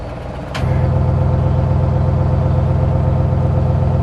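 The engine of a new 2020 Audi RS6 switched into dynamic mode idles loudly and steadily up close, with a deep rumbling drone that begins after a short sharp click and holds without speech.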